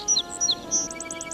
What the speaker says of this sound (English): See, even the sparrow is saying thank you.